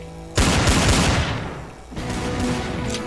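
Sustained burst of video game gunfire shooting through a wall, loud and dense with rapid overlapping shots, a brief dip near the two-second mark, then the firing resumes steadily.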